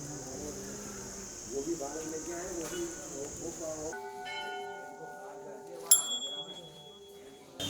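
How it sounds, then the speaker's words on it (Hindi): Many temple bells ring at a Himalayan shrine on the Adi Kailash pilgrimage route in Pithoragarh, with overlapping metallic tones and sustained shimmering overtones, plus a brighter clang near the end amid faint crowd murmur. "लिमिटलेस घंटियाँ।"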